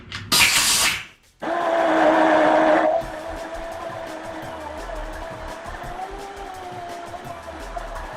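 A dual action sander works over the bottom edges of a skateboard with a loud whirring hum, briefly cut off, then restarted and held for a couple of seconds before fading into quieter scraping and handling.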